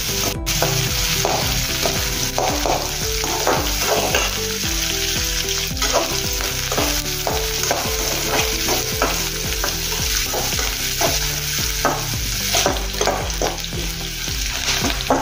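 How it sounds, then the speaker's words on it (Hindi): Onions and green chilies sizzle steadily in a hot pan, with repeated close stirring scrapes and clatter over the constant frying hiss. "थोड़ा देर इसको अभी हम भुनेंगे, थोड़ा कलर आने तक और नरम होने तक प्याज और हरी मिर्च"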